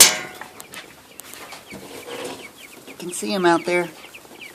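Meat chickens clucking in a coop, with several short clucks and squawks rising near the end while a person talks nearby.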